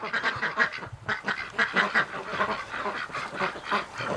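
Muscovy, Rouen and Pekin ducks quacking in a barn during breeding, a dense, continuous chorus of close, overlapping quacks and honks.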